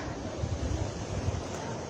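Sea waves and wind at a beach produce a continuous broadband rush of surf with gusty wind noise buffeting the microphone, steady and fairly loud throughout, with no talking.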